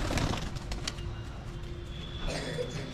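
Pigeons at a fancy and homing pigeon sale in Krishnagiri, with soft cooing and rustling spread across a busy, steady background of mixed noise and faint chatter.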